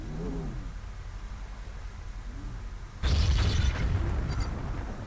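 Artillery shells landing on an impact zone in Hostile Waters: after a low rumbling lull, a sudden loud burst of explosions erupts and rolls on, with faint crackling debris trailing off.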